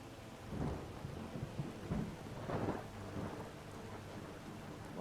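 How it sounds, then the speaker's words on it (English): Real rain falls steadily outdoors while low rumbles of thunder roll in the distance, swelling and fading several times, with no voices over the storm. "although it is starting to actually rain."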